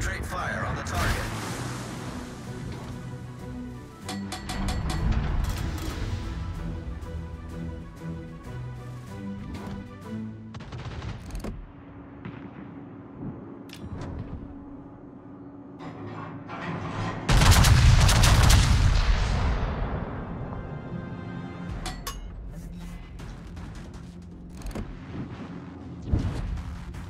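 The battleship Montana's guns fire in heavy, booming salvos with scattered shots and rumbling blasts, peaking in one large explosion midway, with voices heard intermittently.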